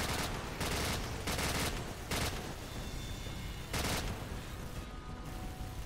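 Heavy gunfire from a fortified position in Call of Duty 4: Modern Warfare: repeated loud bursts of automatic fire over a constant roar of battle.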